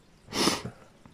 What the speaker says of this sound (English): I don't know why am I sneezing like this?